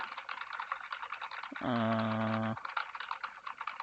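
Rapid keyboard typing clicks continue up close, interrupted midway by a brief steady humming tone.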